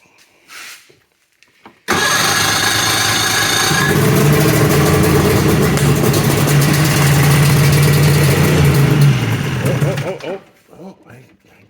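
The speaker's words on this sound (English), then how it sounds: "We gotta have a sled start in the video." A Polaris triple snowmobile engine fires up after a brief quiet start and runs loud and close for about eight seconds, rising then settling into a rough idle before cutting off, with a voice heard around it.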